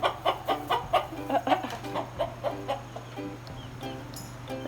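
A chicken clucks repeatedly in quick, rhythmic bursts, close and moderately loud, over a steady low hum.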